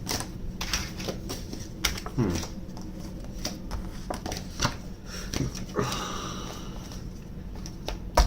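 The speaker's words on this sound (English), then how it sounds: "Let's put these cards back." Tarot cards being handled and put back into a pile, with soft, irregular clicks and flicks of the cards close by over a low background murmur.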